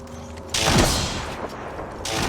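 Gunfire in the battle royale shooter Apex Legends comes as a loud burst of rapid shots with booming impacts and a rumbling tail, close and dense, with no voices.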